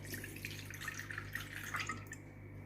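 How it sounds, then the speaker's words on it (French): Water pours into a food processor bowl fitted with a four-blade knife, a faint, quiet trickle with small dripping splashes against a steady low hum. "dans mon robot avec la lame 4 couteaux, je vais mettre 200 g d'eau"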